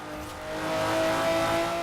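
A McLaren F1's engine revs in the Forza Horizon 4 video game, a steady, loud tone that swells and holds high without a break, heard alone.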